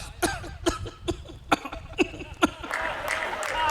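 A voice coughs repeatedly in a regular rhythm, six or seven sharp coughs imitating a phone dial tone at a comedy poetry gathering, followed by crowd noise and applause.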